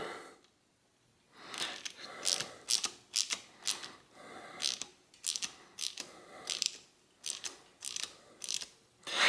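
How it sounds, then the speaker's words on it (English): A nut is tightened with a ratchet on the bottom bracket of a vintage Peugeot bicycle: quick bursts of close, crisp ratcheting clicks repeat in a steady stroke rhythm, with short pauses between strokes and no talk. "Thread the nut on there. And then I can tighten that on."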